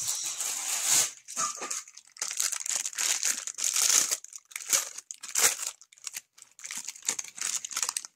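Paper rustles and crinkles close by in irregular bursts, crumpling and shuffling sounds coming and going with brief quiet gaps between.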